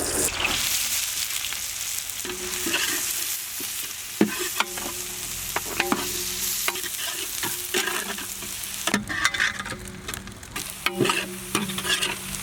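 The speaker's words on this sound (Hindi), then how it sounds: "इसी में हम लोग प्योर घी ऐड करेंगे। इसी घी में हम लोग फाइनली चॉप्ड ऑनियंस ऐड करेंगे।" Chopped onions frying in pure ghee, with a constant close sizzle and frequent clanking strokes of a spoon stirring against the pan, with no voices.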